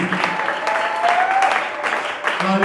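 Church congregation clapping and cheering in praise during a French-language sermon, steady applause with a voice speaking over it and a few brief louder bursts throughout.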